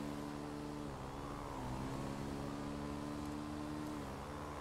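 Motorcycle engine accelerating in GTA V, ridden at night: a steady, moderately loud engine drone with a slight dip and rise in pitch, continuous and with no talk.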